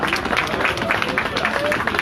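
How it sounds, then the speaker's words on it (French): A crowd at a Gilets Jaunes gathering in Condé-sur-Sarthe claps in a brief, moderately loud burst of applause, with voices talking over it. "on peut les applaudir."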